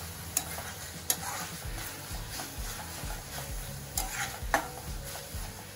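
Noodles with soy sauce and black pepper stirred in a hot pan for veg Hakka noodles: a steady close sizzle with repeated scraping stirs and a few sharp metallic clinks of the utensil.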